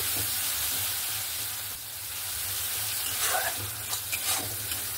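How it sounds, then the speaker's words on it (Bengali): Mustard paste with spice masala stirred and fried in a hot pan for a Bengali Mandeli (ruli) fish curry, a steady close sizzle with scraping stirring strokes toward the end. "আমার এখানে সর্ষেটা দেওয়ার পরে ভালো করে মশলা কষিয়ে নিয়েছি।"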